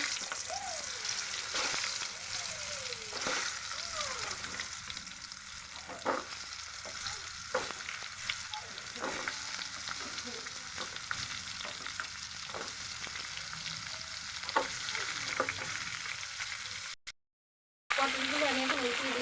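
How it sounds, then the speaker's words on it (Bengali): Pieces of pointed gourd (potol) seasoned with turmeric and salt fry in oil in a frying pan, a steady close sizzle broken by repeated stirring scrapes, with a voice speaking now and then and a brief dropout near the end. "এখন পটলগুলো ভেজে নেব।"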